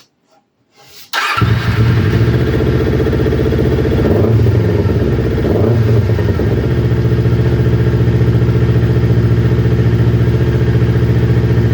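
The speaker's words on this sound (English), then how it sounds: "hopefully she carries on idling as good as she is right now" A motorcycle engine starts after a second of quiet, then settles into a steady, loud idle with an even, throbbing rumble that holds to the end.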